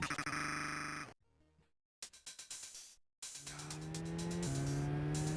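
Car racing in the Amiga game Lotus Turbo Challenge 2, with synthesized engine tones broken by two brief silent gaps, then a steady rising engine drone that shifts pitch once.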